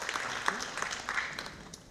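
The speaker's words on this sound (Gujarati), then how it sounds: "તાળીઓ સાથે આપણે સાહેબશ્રીનું અભિવાદન કરીએ છીએ" Audience applause greets a guest at a school parent training session, a dense, steady patter of many clapping hands with scattered sharper claps, at moderate distance and continuing for the whole stretch.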